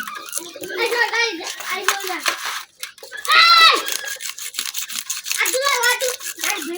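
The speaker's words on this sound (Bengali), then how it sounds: "এই যে মাছের কিন্তু সব আঁশ থেকে আমি ছাড়াই নিছি" A carp is scraped clean of its scales with a knife in a village kitchen, giving bursts of rough rhythmic rasping close by, broken by short pauses, with voices, including a child's, talking over it.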